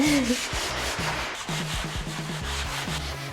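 120-grit medium sandpaper rubbing across painted wooden furniture in steady back-and-forth strokes, a close, continuous rasping scrape with rhythmic low thumps as the paper moves.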